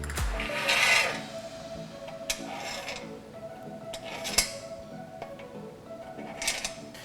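Metal carriage bolts sliding into the rock rail of a Ford F150 truck during a running board install, a faint scraping and rasping with a few small metallic clicks and taps, no talking.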